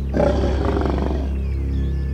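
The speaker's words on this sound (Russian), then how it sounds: "Их рычание слышно на расстоянии до 8 километров." A wild lion in Tanzania gives a deep, loud roar that starts abruptly and fades into a rumbling growl over a steady low drone, close and heard alone.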